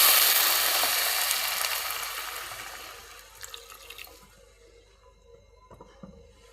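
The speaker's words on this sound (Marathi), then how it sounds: "मी इथे अर्धी वाटी पाणी टाकते." Half a cup of water poured into a hot pan for Maggi noodles, a loud hissing rush at first that fades over a few seconds into faint bubbling and a couple of soft clinks.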